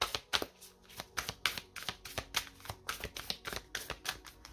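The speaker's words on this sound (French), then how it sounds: "on prend la petite carte conseil avec la lunologie." Oracle cards are shuffled and drawn close by in a quick series of soft, crisp riffling flicks, with no talk over them.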